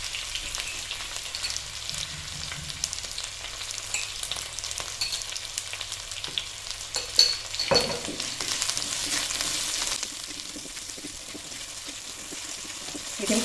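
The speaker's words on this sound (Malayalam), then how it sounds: "കറിവേപ്പില, പച്ചമുളക്, കറിവേപ്പില എല്ലാം ഇട്ട് ഇളക്കണം." Curry leaves and green chillies frying in a pan while being stirred for a Kerala fish curry, a steady soft sizzle with occasional scraping and a brief louder crackle midway.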